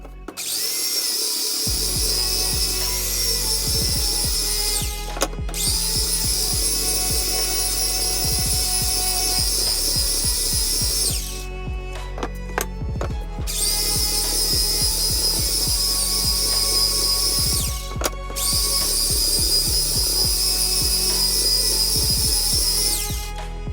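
A power saw cutting wood for a DIY wooden ice box built around a foam cooler screams loudly and steadily, running in long sustained passes with brief pauses between cuts, close up and with no talk.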